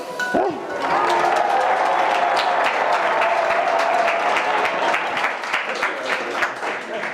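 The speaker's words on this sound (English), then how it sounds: "Can I have an applause?" A crowd breaks into sustained applause, dense clapping filling the room for several seconds before gradually thinning out.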